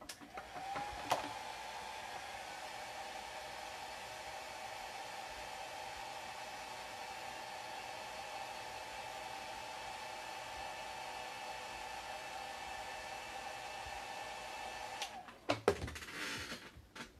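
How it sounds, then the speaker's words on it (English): Hairdryer blowing on a painted miniature to set the paint, a steady continuous whir held for about fourteen seconds, with small clicks and handling knocks as it switches on and off. "we're just going to hit it with the hairdryer real quick"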